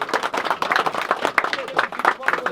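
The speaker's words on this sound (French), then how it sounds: "Un peu d'applaudissements pour la seule femme qu'on avait aujourd'hui." Dense clapping from a crowd at a fishing contest prize giving, steady and lively throughout, with voices talking over it.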